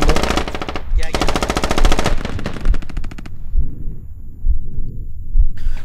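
Sustained machine-gun fire in the military shooter game Squad, long rapid bursts close and loud, then a pause and further scattered shots, with faint talk in the background.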